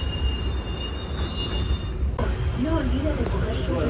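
A Paris metro train pulls into a station with a loud rolling rumble, and its wheels squeal in rising and falling tones as it slows. A person talks over the noise.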